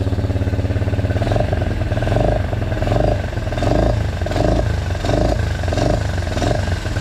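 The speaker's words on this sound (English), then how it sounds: "Let's give her a few revs." A 1987 Honda ATC 125M three-wheeler engine, freshly valve-adjusted, revving up in repeated pulses from a steady idle, loud and close with a throbbing, rhythmic rise and fall and some mechanical clatter.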